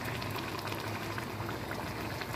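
Garlic sautéing in a pan with a steady bubbling sizzle that stays even and close throughout, no voices over it.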